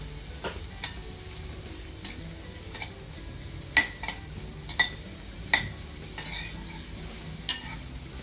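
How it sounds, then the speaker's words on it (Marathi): Finely chopped onion is sautéed slowly in a pan without oil, a quiet, soft sizzle punctuated by a dozen sharp, close clicks and taps from a utensil stirring against the pan. "हा बारीक चिरलेला कांदा हळूहळू आपण परतवायचा आहे"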